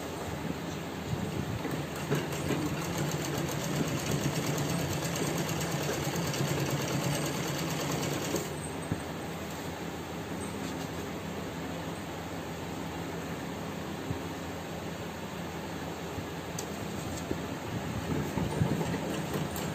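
Sewing machine stitching along the waistband belt of a pant with a front belt and elastic back, running in a steady, continuous whir for the whole stretch with no talking.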